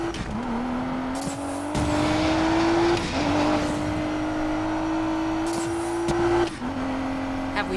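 Car engine droning steadily as it drives in Need for Speed Payback, with its pitch climbing and dropping through gear shifts. A loud, continuous hum sits under the game's background sound.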